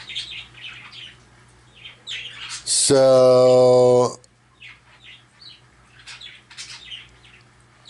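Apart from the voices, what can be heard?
pet bird squawking and pecking at a figurine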